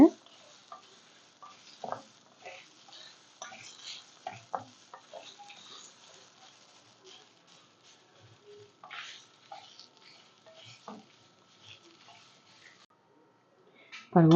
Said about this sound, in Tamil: இதையும் நல்லா செவக்க வறுக்கணும் தேங்காவும் சேர்ந்து